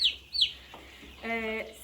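Farm chicks peeping in short, high chirps, a few sharp calls early on and then a longer buzzy cluck, close and fairly quiet against a low background hum.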